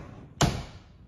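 A closet door swings shut with a single sharp thump midway, followed by a brief fading rattle in an otherwise quiet room.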